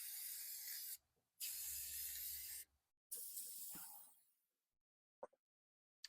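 A spray can mists paint onto oversized DIY Christmas bells in three close hissing bursts separated by short pauses, followed by near silence broken only by a few faint clicks.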